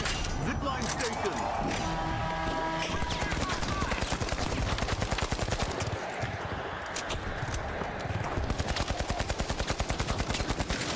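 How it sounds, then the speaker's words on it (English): Rapid gunfire from The Finals video game, dense bursts of automatic shots rattling continuously under game sounds, with a voice talking over it. "Everyone's shooting at me."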